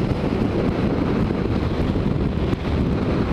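Strong wind roars into the microphone while riding a motorcycle, a loud, constant, dense rush of buffeting that fills the whole stretch with no break and no voices.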